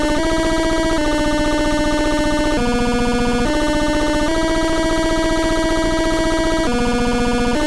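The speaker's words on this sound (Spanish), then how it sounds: "La música está realmente fuerte," Loud, harsh looping music from the Pikachu.exe horror game plays on its own, a dense, distorted tune with repeated chord changes and no voices over it.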